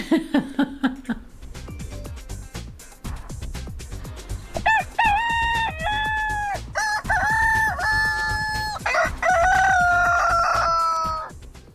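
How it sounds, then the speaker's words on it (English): Rooster crowing sound effect: several loud, close cock-a-doodle-doo crows with rising and falling calls follow one another, preceded by clucking and scattered clicking noises, with no talk in between. "So we are going to give you the rooster right now."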